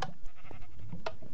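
Short bleats from a sheep in the Minecraft video game, a few faint, brief calls spread over a quiet background with no speech.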